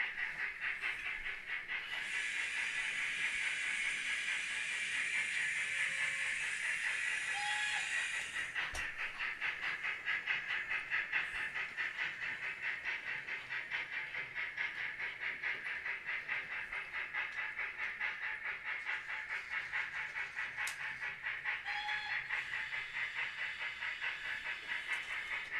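A model railway train runs on a modular layout as it comes out of the fiddle yard, producing a steady hissing hum with a faint fast rail clatter and a few light clicks. The sound continues throughout at low volume.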